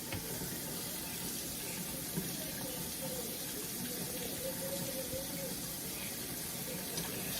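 Tap water runs steadily into a sink while pepper steak is rinsed under it, a soft continuous hiss and splash with faint background noise and no talk.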